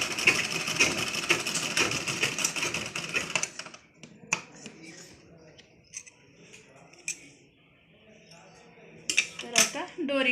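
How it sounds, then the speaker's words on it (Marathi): A sewing machine runs a fast, steady stitch along the edge of fabric for a blouse latkan for about three seconds, then stops; sparse handling clicks and a faint voice follow. "जशी दाब टीप देतो ना तशी एकदम कडेवर शिलाई मारून घेऊया."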